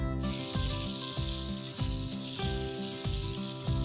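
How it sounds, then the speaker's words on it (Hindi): Fennel seeds and coriander crackle and sizzle in hot oil, a dense steady hiss with a repeating tonal hum underneath. "बस ये सौंफ और धनिए का छौंक।"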